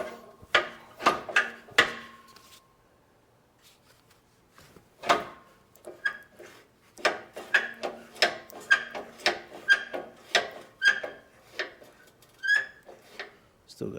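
The pin on a Bobcat 542B skid steer loader squeaks as the loader moves, a series of short, sharp metallic squeals and creaks coming in uneven bursts, close by, with pauses between them and no talking.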